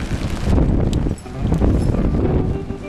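Strong wind of about 25 miles an hour buffets the microphone in loud, uneven gusts on a cool day out on a river while fishing for striped bass.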